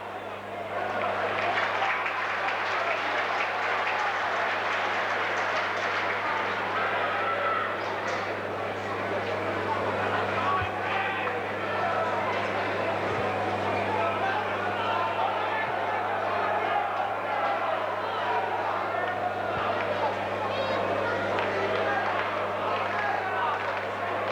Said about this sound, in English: A bit of a slow hand clap coming in for Fulham